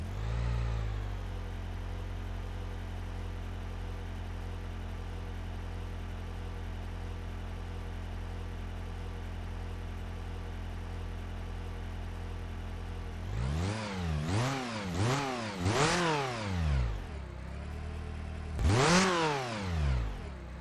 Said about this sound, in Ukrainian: проводимо пуск нашого автомобіля